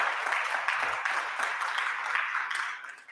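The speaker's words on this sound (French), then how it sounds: "Vos applaudissements." Conference audience applause at an energy-transition talk, a dense steady wash of many hands clapping at moderate distance, sustained for about three seconds before thinning out.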